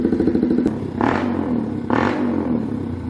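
A 2023 Honda Grom's small motorcycle engine idling close by with a rapid, gruff putter, blipped twice into brief rasping revs before settling back to a loud, lumpy idle.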